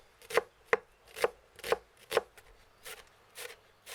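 A knife chops onions and fresh herbs for medieval pancakes in a regular rhythm of about nine crisp, evenly spaced strokes on a board, fairly quiet and close, with no talk.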